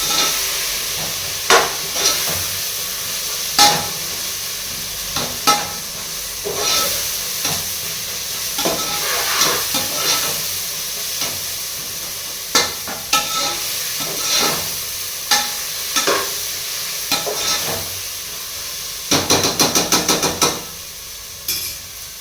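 An egg fries in a pan, sizzling softly under repeated scraping stirs of a utensil, with a quick burst of rapid clinks toward the end and no talking.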